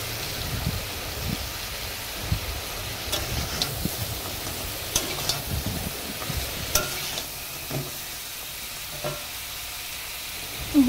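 Chopped onions frying in a pan for a crab curry, giving a moderate sizzle with repeated scraping and clicking stirs throughout, no talk.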